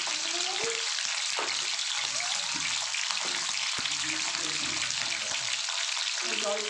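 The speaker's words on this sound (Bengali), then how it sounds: "লবণ দিয়ে অল্প করে লবণ দিয়ে আমি ভেজে নেব একটু কালারটা চেঞ্জ হওয়া পর্যন্ত" Flat beans fry in oil with salt, giving a steady close sizzle with intermittent clatter of a spatula stirring the pan, no talk heard.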